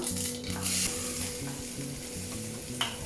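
Ground coconut goes into a sizzling beans thoran in a pan with spluttering mustard seeds, producing a loud, close, continuous frying hiss with stirring scrapes throughout, and no voices.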